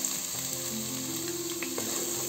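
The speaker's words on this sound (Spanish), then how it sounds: "Y seguido le vamos a poner la cebolla y el pimiento, las dos cosas, para que se hagan al mismo tiempo." Garlic, onion and pepper sizzle steadily in a hot pan for a Bullit de Peix fish stew, a close, even crackle with a few faint stirring scrapes and no voices.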